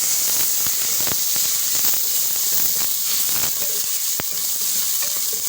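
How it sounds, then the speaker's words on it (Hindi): Sliced onions dropped into about half a cup of hot oil in a pot, hissing and sizzling steadily throughout with a few sharp spatter pops, close and fairly loud, no talking. "अब इसके अंदर मैं प्याज डाल देती हूँ जल्दी से"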